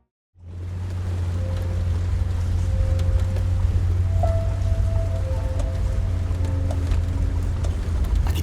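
Steady rain lashing a high, open moor, heard as a constant loud hiss of drops with a deep low drone beneath, continuous and unbroken from start to finish with no voices.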